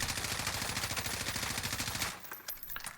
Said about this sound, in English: I'm going to ADS and shoot to test my recoil.